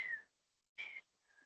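A voice imitates the whistling wheeze of an asthmatic lung, producing three short, thin whistled tones separated by brief pauses, quiet and alone.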